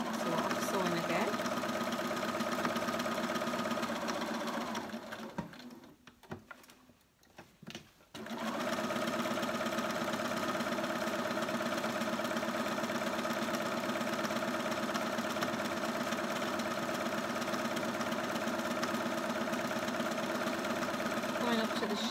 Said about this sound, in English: we're going to sew all the way around the edge